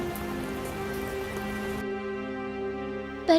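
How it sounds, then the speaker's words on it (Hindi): Heavy rain pours steadily as a story sound effect, a constant hiss that drops off abruptly partway through, leaving a quieter background tone and a brief sharp sound at the end. "बारिश भी तेज थी"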